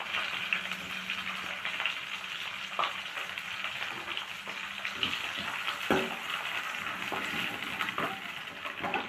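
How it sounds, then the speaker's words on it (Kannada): Green chillies fry in hot oil in a pan, giving a steady close sizzle with a few soft clinks and scrapes of a utensil throughout, and no talking. "ಈ ಥರ ಸ್ವಲ್ಪ ಹಸಿಮೆಣಸಿನ್ಕಾಯಿನ ಈ ಥರ ಫ್ರೈ ಮಾಡೋಣ ಆಯಿಲಲ್ಲಿ."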